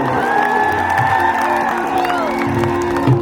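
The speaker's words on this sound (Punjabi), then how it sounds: "ਦੂਜੀ ਤਾੜੀ ਮੇਰੇ ਭਰਾ ਸਿੱਧੂ ਮੂਸੇਵਾਲੇ ਦੇ ਨਾਮ ਦੀ ਜ਼ਰੂਰ" A crowd at a live show for Sidhu Moosewala claps and cheers in a steady, loud wash, with whoops rising over the applause throughout.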